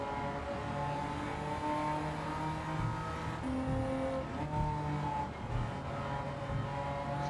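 Engine of a 1991 Mitsubishi GTO Twin Turbo in Gran Turismo 7 on the Tokyo Expressway, a steady loud droning note climbing under acceleration, with a brief pitch jump at a gear change midway before the revs build again.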